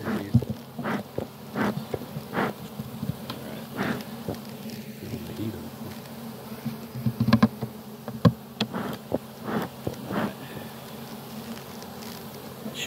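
Honey bees buzz continuously around a hive during an inspection, close and busy, with occasional rustling and handling noises and faint talk.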